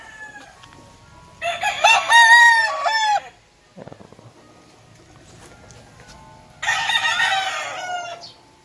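Two loud, close crows from a Sweater Kelso gamefowl rooster in a backyard, each a drawn-out cock-a-doodle-doo, separated by a quiet gap with faint clucks.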